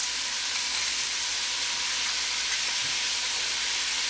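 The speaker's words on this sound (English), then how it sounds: "we are going to just saute these until they are translucent" Chopped onions and four crushed garlic cloves sauté in a hot pan, giving a steady, close, even sizzle with a soft frying hiss that never lets up and has no talking over it.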